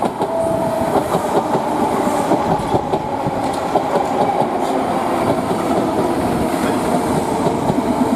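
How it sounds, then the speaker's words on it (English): A train arriving at a station platform in Stratford rumbles and clatters along the rails, a steady loud roar with rhythmic wheel clicks and faint squeals throughout, no voices. "Train now approaching."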